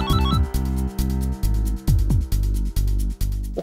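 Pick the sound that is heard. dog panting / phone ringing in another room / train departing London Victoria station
phone ringing in another room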